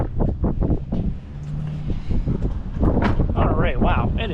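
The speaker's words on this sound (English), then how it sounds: "It is ridiculously windy." Strong gusting wind blows outdoors in a grocery store parking area, a steady broadband rush buffeting the microphone throughout, with someone talking over it for most of the time.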